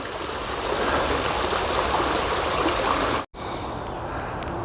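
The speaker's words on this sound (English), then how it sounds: "This nice little water feature here." A small stream along the Appalachian Trail trickles and splashes in a steady, close rushing wash, broken by one brief dropout near the end.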